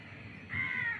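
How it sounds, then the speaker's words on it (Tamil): A crow caws once, faint and somewhat distant, over steady outdoor background noise beside a home where food is cooked on a wood-fired stove. "காக்கா"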